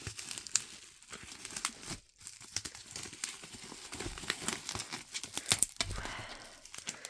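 Manga package being opened by hand, with crinkling and tearing packaging in repeated close, sharp bursts and a short pause midway, no talk.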